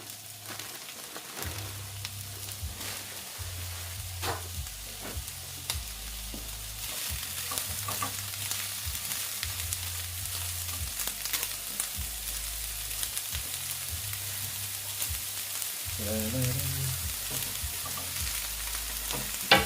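Onions frying in a pan on a camping stove outdoors, a steady crackling sizzle that grows slightly louder over time, with a low stove hum that pulses on and off underneath.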